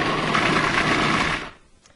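A food processor whirs loudly as it finely minces meat and onion for a vodka sauce, a steady high whine lasting about a second and a half before cutting off into quiet.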